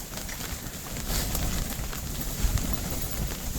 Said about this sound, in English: Right now we got major gusts coming.